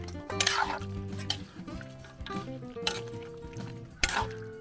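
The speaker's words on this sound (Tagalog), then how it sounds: "Haluin natin dyan." Metal utensil scraping and clinking in a pot while stirring spicy chicken adobo simmered in coconut milk with papaya, several distinct clanks over a soft sizzle, close and fairly quiet, no talk.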